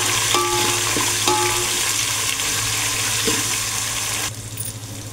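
Hot tempering of oil with garlic and tomato sizzles loudly in a pan, a steady crackling hiss with light clinks from stirring, then the sizzle drops abruptly near the end.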